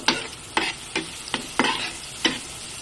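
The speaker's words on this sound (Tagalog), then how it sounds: "So, magigisa tayo ng bawang." Garlic sautéing in a pan for creamy beef with mushrooms: a steady sizzle broken by about six sharp scraping stirs at a regular pace, close and fairly loud, with no talking.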